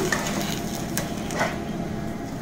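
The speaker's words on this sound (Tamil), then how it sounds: "மாவு நல்லா வெந்து ஒரே பாலாக திரண்டு வர வரைக்கும் வதக்கி விட்டுக்கலாங்க" Rice flour dough with grated coconut being sautéed in a pan, a continuous close sizzle with soft scraping and stirring noises and a couple of light knocks. No one speaks.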